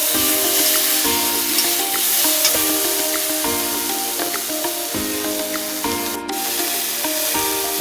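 Green and dried chillies frying in hot oil, a loud, continuous close sizzle and hiss with rhythmic scraping strokes of a spoon stirring through the pan.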